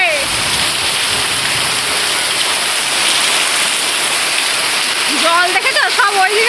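Heavy rain pours down in a dense, steady roar close by, with a voice briefly audible near the end.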